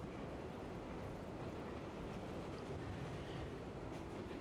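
Steady rumbling train interior ambience in the Tsukihime Remake video game, a continuous low rolling drone of a carriage in motion with faint rattles, even and unbroken throughout with no voices.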